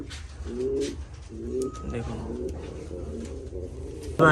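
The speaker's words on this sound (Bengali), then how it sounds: "পুরো একদম লট ভর্তি কিন্তু পায়রাই" Fancy pigeons packed into a full loft coo in low, throaty bursts, two strong rounds near the start followed by a steady murmur of cooing, with someone talking briefly over them.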